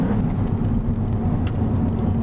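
Maserati MC20 driving on the Inje race circuit, a loud, steady engine drone and road roar heard from inside the cabin, unbroken throughout.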